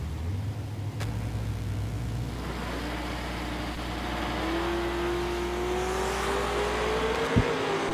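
Drag racing cars, a Monza and a Vega, launch down the strip at a 10k event, a continuous engine roar with a rising tone as the cars accelerate away, steady and fairly loud throughout.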